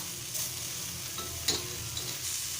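Malvani-style fish fries in oil, giving a steady close sizzle and crackle with a few brief clinks of stirring.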